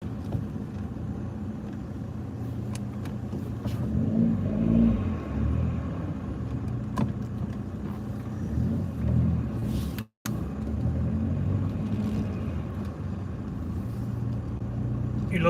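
A car turning around and driving off, its low engine rumble and road noise running steadily throughout with a brief cut near the middle, while people talk inside the cabin.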